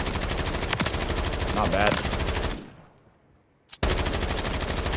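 Rapid automatic gunfire in Black Ops 6 rattles out in dense bursts, stops briefly for a near-silent gap, then resumes with a sharp shot and more sustained fire; a voice speaks briefly during the shooting.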